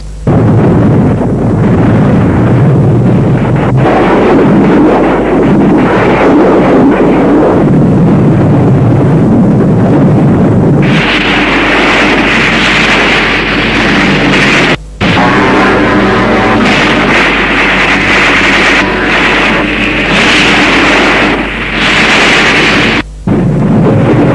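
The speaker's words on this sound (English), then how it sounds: "But the mercenaries came under endless artillery and aerial bombardment." Artillery fire and aerial bombardment explosions in a war scene, a loud continuous barrage of booming blasts and rumbling bursts that overlap densely throughout, with brief sharp cracks and no pauses.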